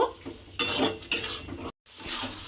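Spices with chilli powder and sugar being stirred and sautéed in a pan for white ghugni, with scraping spoon strokes and clinks over a faint sizzle and a brief silent gap.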